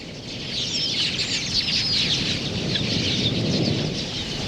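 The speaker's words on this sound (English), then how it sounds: "Swirling flocks of quillias converge on the diminishing water holes to quench their thirst." Huge swirling flocks of quelea birds gathering at shrinking water holes in Africa's Okavango, a dense continuous chatter of countless chirps with wingbeats, loud and steady throughout.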